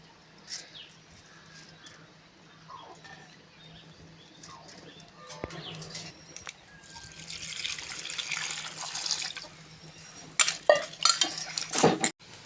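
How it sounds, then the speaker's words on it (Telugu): Drumstick leaves being washed by hand in water in a home kitchen, soft sloshing and splashing that grows busier and louder toward the end, with occasional clinks of a vessel. "ఇలా 2 సార్లు కడిగేసుకుందాం."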